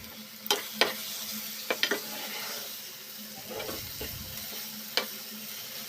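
Spices with turmeric and salt fry in a pan, giving a soft, low-level sizzle broken by several sharp utensil clicks and scrapes, close up and without speech.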